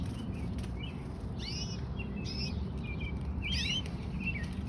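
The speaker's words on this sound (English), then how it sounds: "these are actually canary birds." Pet canaries chirp in a backyard in several brief, bright bursts. The chirps are soft and spaced apart over a steady low background hum.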